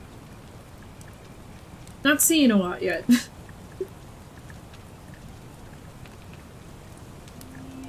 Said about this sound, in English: Hear a lot of rain.